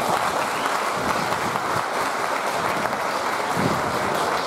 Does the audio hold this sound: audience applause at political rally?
yes